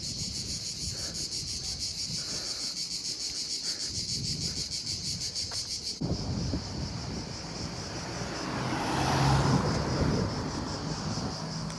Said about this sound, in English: The crickets here, I don't know if you can hear them, but they're starting to get really loud.